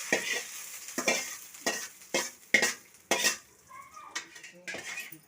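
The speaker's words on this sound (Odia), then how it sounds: "ଏବେ ଛୁଙ୍କ ଦହିରେ ଢଳା ହେଲା।" Hot tempering (chhaunk) is poured into yogurt and sizzles softly while a spoon stirs the bowl, striking it in about seven sharp, regular clinks roughly every half second, close and fairly quiet.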